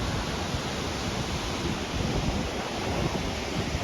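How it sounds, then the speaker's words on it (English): An Alaskan waterfall in Gates of the Arctic roars as a constant, broad rushing wash of falling water, with no talk over it. "Look at this freaking, out of nowhere, this waterfall."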